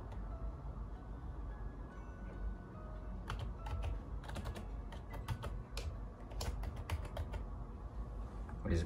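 Password typed on a computer keyboard: bursts of quick, light key clicks, uneven and close, over a steady low background hum, with a quiet stretch before the typing starts.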